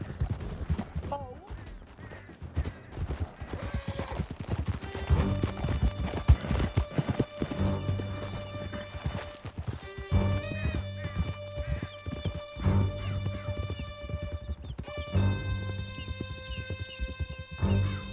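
Horses gallop with rapid, heavy clip-clop hoofbeats and occasional whinnies during a canyon chase in Red Dead Redemption 2. The ride is loud and continuous, with shouted voices and a musical score layered over it.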